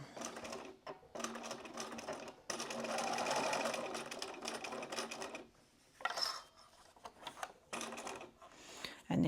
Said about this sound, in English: let's take this over the machine and sew 1/4 of an inch all the way around again